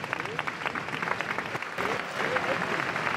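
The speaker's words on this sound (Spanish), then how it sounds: "El aplauso de los abulenses emocionados" A crowd of mourners applauds outdoors at the state funeral of Adolfo Suárez in Ávila, a sustained, dense clapping that swells louder midway, with a commentator speaking over it.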